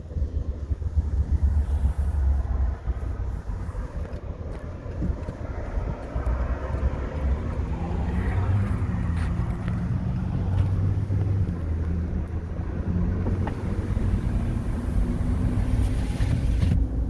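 A GMC Sierra AT4 pickup with a 3L Duramax diesel engine runs steadily, a low, quiet continuous rumble with a faint hum throughout, close by and without speech.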